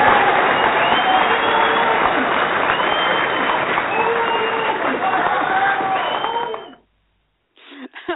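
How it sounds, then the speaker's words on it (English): An audience breaks into loud, sustained applause mixed with cheering and crowd noise, steady for several seconds before cutting off abruptly, with a brief burst of sound afterward. "Want to give you a round of applause, Susan?"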